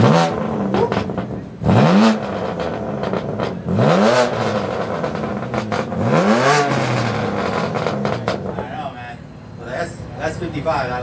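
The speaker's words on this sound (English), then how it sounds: "let's hear some valves open" BMW E92 with an FI exhaust, valves open, revved in three sharp bursts with rising and falling engine pitch, loud and close, with crackle between revs and people talking nearby.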